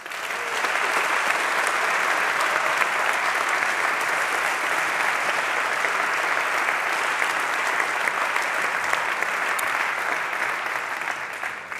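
Sustained, dense applause from a large audience at a Geneva business awards ceremony, loud and even throughout with no letup, a continuous wash of many hands clapping together.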